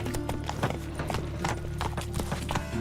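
Roach, Geralt's horse in The Witcher 3, gallops in a rapid, steady hoofbeat rhythm, close and continuous over a low game soundtrack hum.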